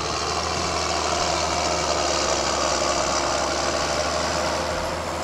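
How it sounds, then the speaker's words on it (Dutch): A 1999 John Deere 7810 tractor with a 210 hp engine and over 10,000 hours runs at idle, a loud, steady diesel rumble with a knocking undertone, close and continuous. "Dit is de John Deere 7810 van Wim van Dam uit de Beemster."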